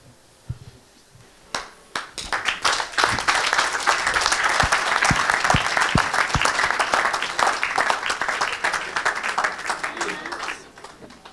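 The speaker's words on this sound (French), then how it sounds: "Acclame encore pour Jésus-Christ." A church congregation breaks into loud, sustained applause for Jesus Christ at a worship service, starting with a few scattered claps and swelling into dense clapping from many hands before fading out near the end.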